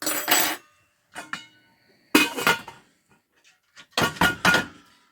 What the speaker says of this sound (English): Let me get it out of the pot so we can peel off our cabbage leaves.